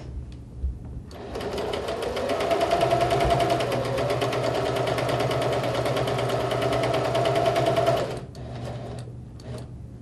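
A sewing machine stitches across lace in one steady, close run of about seven seconds, starting and stopping with brief pauses and no talking.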